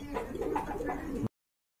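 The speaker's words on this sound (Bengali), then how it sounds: "এখানে কিন্তু আরেক জোড়া কবুতর দেখতে পাচ্ছেন, খুবই সুন্দর বিগ সাইজের" Large pigeons at a pigeon farm coo softly in a short, rolling burst lasting just over a second, then fall silent.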